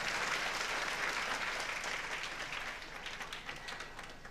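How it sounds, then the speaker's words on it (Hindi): A live audience at a Hindi religious discourse applauds with steady, dense clapping that fades slightly toward the end. No voice is heard over it. "तालियां कमजोर है"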